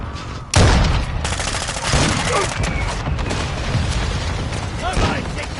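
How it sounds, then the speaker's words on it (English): Mortar strike explosions and gunfire in the Modern Warfare 2 video game: a heavy boom hits early, followed by sustained loud bursts of firing and further blasts, with voices calling out over the din. "Hostiles launched the mortar strike."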